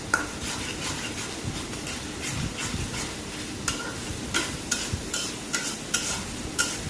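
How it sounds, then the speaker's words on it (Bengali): Spoon stirring fish curry masala with chili powder in a pan: repeated scraping strokes in a steady rhythm over a soft continuous sizzle, close and moderately loud. "এখন নাড়াচাড়া দিব।"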